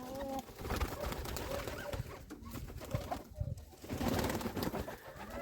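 Pigeons in a village, including a black-headed one, coo softly and repeatedly at close range, with some rustling and other bird calls around them.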